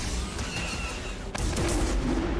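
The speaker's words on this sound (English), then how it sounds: "Can I block his blaster bolts?" Blaster bolts firing in the Star Wars game Jedi Fallen Order amid dense combat noise, a loud continuous wash of shots and impacts with one sharp crack midway and a rising hum after it.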